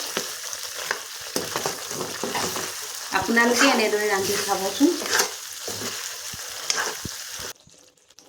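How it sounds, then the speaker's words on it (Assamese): Cut brinjal and potato fry in a spice masala with curd, a close, continuous sizzle with stirring scrapes, while someone speaks over the cooking in the middle before the sound drops away at the end. "মছলাখিনি সোমাই যোৱাতে মই এনেদৰে কাটি ৰখা বেঙেনা আলুখিনি দি দিলোঁ"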